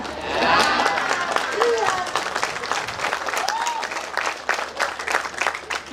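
Audience applause breaks out during a talk by a former president of Indonesia, a burst of crowd clapping that swells then thins into scattered claps, with voices and a brief spoken word mixed in.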